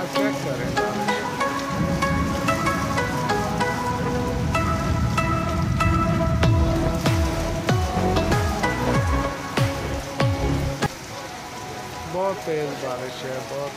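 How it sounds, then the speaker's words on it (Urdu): Heavy rain pours down in Dammam in a steady, dense hiss with scattered drops and splashes, while a voice talks over the downpour. "بہت تیز ہے یہ بارش جو ہے"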